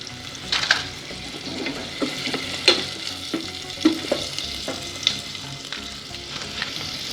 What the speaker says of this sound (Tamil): வெங்காயம் நல்லா வதங்கணும். ஒரு கொத்து கருவேப்பிலை,